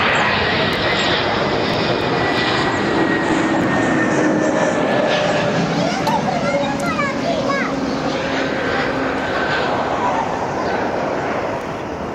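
A Luton inbound jet airliner arriving at Barcelona roars loud and steady as it passes, its engine whine holding throughout while children and a dog sound faintly in the background.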